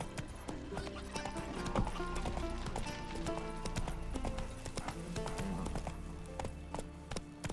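Roach, a horse in The Witcher 3, clip-clops along with steady hoofbeats and an occasional whinny, the footfalls loud and close over a layered game soundscape.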